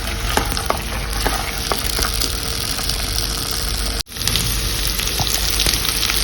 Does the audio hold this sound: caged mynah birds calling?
no